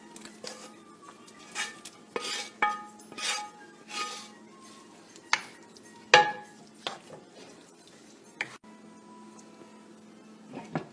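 Fried and oven-baked chicken pieces go into a pan of tikka masala gravy, with repeated metallic clinks and scrapes of a utensil against the pan, some louder knocks, and quiet sizzle-like patter in between.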